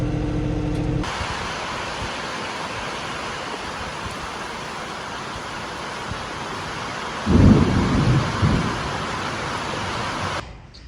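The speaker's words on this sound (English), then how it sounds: "And now we're getting a nice rain." Heavy rain pours steadily on a farm in summer, a constant broadband hiss, with a deep rumble of thunder swelling midway before the sound cuts off.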